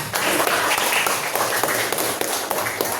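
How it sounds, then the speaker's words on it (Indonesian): A classroom group claps together on cue, a dense patter of hand claps held steady at even loudness for a few seconds with no voices over it. "Oke, tepuk tangan buat."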